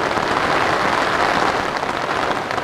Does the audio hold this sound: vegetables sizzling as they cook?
no